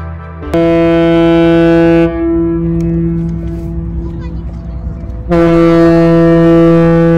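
A deep, loud ship horn blasts nearby at the Yokohama waterfront in Japan, holds, breaks briefly, then sounds again long and steady.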